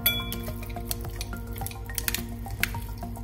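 Strips of meat being mixed in a marinade for a Thai-style dish, with quick wet squelches and clinking utensil taps against a bowl, close and busy, over a faint steady hum.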